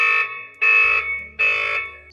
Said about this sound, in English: starts the intruder alarm. The alarm is now triggered.